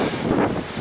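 Sustained 30-mile-an-hour wind in a Lubbock, Texas snow storm rushes and buffets against the microphone, a brief loud, broadband roar with slight swells.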